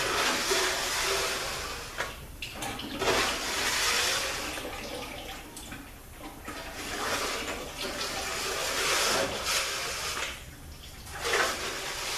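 Used automatic transmission oil drains from a ZF6HP26 gearbox pan, a steady liquid splashing and trickling that runs continuously near the mic with slight surges, with no voices.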